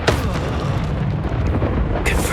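Expulso blasting spell explosion in the video game Hogwarts Legacy, a loud rumbling blast with a sharp crack at the start and a fresh burst near the end.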